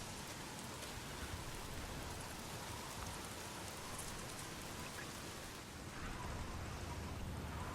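Steady rainfall from the video game Days Gone hisses as a constant, even wash of dense drops, moderately soft and unbroken throughout, with no voices.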